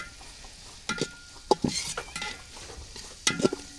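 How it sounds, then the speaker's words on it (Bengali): Spices, onion, ginger paste, garlic paste, cumin paste and green chilies fry in hot oil in a pot, with a soft sizzle under several scraping spoon strokes close by. "এখন এই মশলা ভালোভাবে কষাই নেব"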